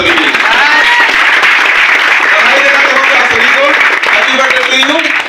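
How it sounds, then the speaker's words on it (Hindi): An audience in a hall at a business event claps loudly and continuously, a dense, steady wall of applause that fills the whole stretch, with a voice over it. "फर्स्ट टाइम हमारे जो मेहमान आए हैं फंसने के लिए आए, वो जोरदार ताली बजाइए सभी के लिए।"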